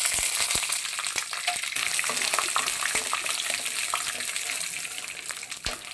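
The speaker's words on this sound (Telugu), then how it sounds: "పల్లీలను అయితే వేసుకుని ముందుగా అయితే వేయించుకోవాలి" Peanuts sizzle and crackle steadily in hot oil for chutney, a dense, loud frying hiss with sharp pops and occasional stirring clicks throughout, no voices present.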